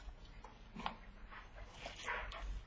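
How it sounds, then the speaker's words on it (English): A pet dog whimpers and lets out soft, brief yips indoors, quiet and intermittent against a low room background, with no speech. "That's my dog, sorry."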